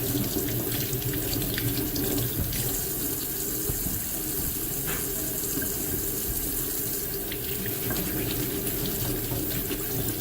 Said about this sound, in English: Rinse them under warm water.